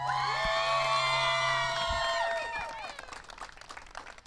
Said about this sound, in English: How welcoming is this lovely cheer every time that you walk to the middle?